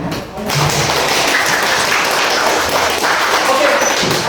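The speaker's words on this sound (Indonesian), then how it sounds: "tepuk tangan untuk kalian" Children clapping at a church lesson, a loud close burst of applause with thuds and taps that starts after a brief pause and carries on evenly.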